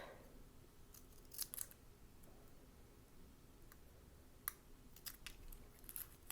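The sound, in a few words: curved scissors cutting quilt fabric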